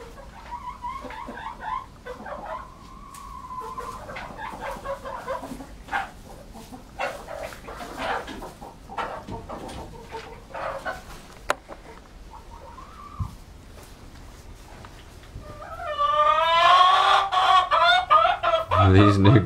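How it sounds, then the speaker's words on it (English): Hens cluck and squawk loudly in a burst near the end, preceded by scattered quieter bird calls and rustling. "These new girls are really noisy compared to the old hens."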